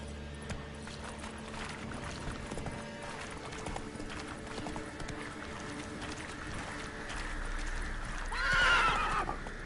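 Roach the horse in The Witcher 3 gallops with rhythmic hoof clip-clops under a steady game background, then lets out a fairly loud neigh near the end.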